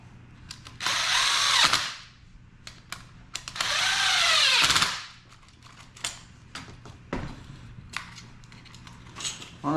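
A power drill driving a screw into an LED can light's Romex clamp, two sustained whirring bursts with rising pitch, separated and followed by sharp clicks and handling knocks.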